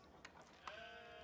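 A sheep in a medieval strategy game set around the 1306 defence of Multan lets out a short, bright bleat, quiet and alone amid faint background game sound.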